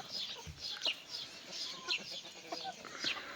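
A young rooster and chickens cluck in a farmyard flock, giving repeated soft calls that stay faint and distant over a steady background hiss.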